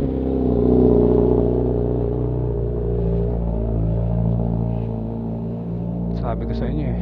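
A Suzuki GSX-S1000 naked motorcycle engine on a cold start, a close, steady low rumble that swells slightly early on and then holds an even idle.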